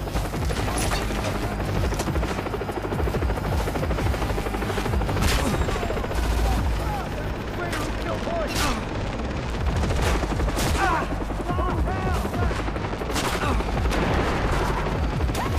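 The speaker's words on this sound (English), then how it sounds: "I guess I gotta just shoot people" Constant loud gunfire and explosions in the video game Far Cry 3, with rapid automatic bursts and booms layered in a thick, nonstop battle din.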